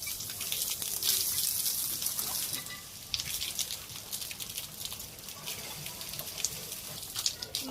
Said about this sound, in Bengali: তেলও গরম হয়ে গেছে, ডিমগুলো ভাজি করে নিই